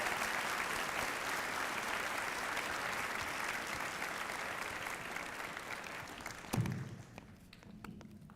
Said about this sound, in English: Please welcome the veterans with your applause on this Veterans Day